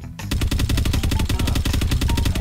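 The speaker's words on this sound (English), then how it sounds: "I'm getting sniper with laser gun." A laser sniper gun fires in the mobile game Call of Duty Mobile, a loud rapid burst of evenly spaced shots repeating without pause after a brief quiet start.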